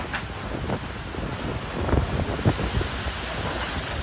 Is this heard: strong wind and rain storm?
yes